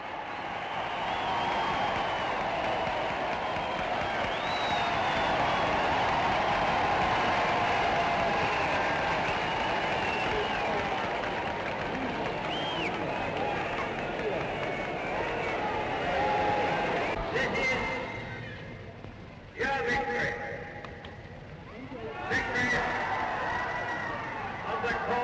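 A large outdoor crowd cheering Winston Churchill on the Ministry of Health balcony, a dense continuous roar of voices and applause that swells, then drops away briefly near the end before returning.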